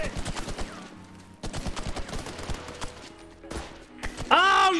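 Bursts of gunfire from the video game H-Hour, with rapid repeated shots in clusters through the clip and a louder, denser burst near the end, mixed with other game noise.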